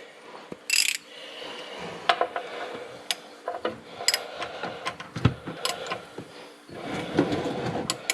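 A wrench snugs down a bolt on a 1955 Willys Jeep CJ5 in close, quiet surroundings, giving short metallic ratcheting clicks and clanks in irregular bursts, with scraping tool handling between them.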